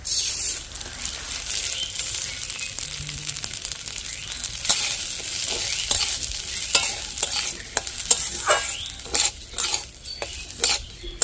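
Rice fries in ghee in a pan, a soft sizzle beneath repeated scraping and clinking of a spoon stirring it, with the strokes growing sharper and more frequent over time.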